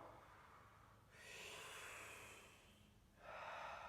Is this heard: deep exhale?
yes